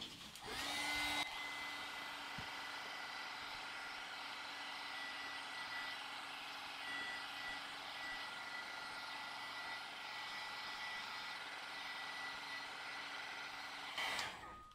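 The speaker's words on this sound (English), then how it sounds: "I am going to use a heat gun that I have to just kind of dry it up quickly" A heat gun blows in a steady whooshing roar while drying a watercolor art journal page, switched on near the start and running alone and unbroken for about thirteen seconds before cutting off.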